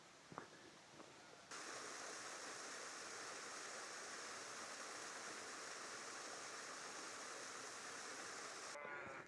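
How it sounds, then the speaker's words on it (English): A stream rushing through a small ravine feeding the River Holme near Holmfirth, Yorkshire, a soft, constant broadband wash of flowing water that starts abruptly and continues steadily, faint and distant-sounding. "We're dropping down into a little ravine here, and it's actually part of the stream network that feeds into the River Holme."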